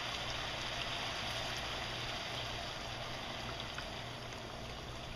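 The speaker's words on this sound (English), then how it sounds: "At this point, we're going to pour in our chicken stock." Chicken stock pours into a pot of cooking vegetables with a steady, even rushing splash that runs unbroken and fairly quiet, close by and alone.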